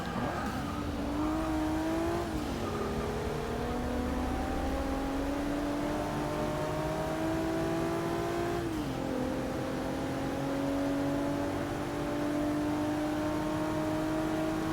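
A Volvo S60 race car in Forza Motorsport 6, a sustained high engine whine climbing through gears with brief shift dips, steady and loud with no talk.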